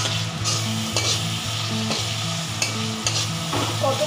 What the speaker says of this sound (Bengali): আদা বাটা দিয়ে দিলাম, দিয়ে দিয়ে এটাও কষিয়ে নিচ্ছি ভালো করে।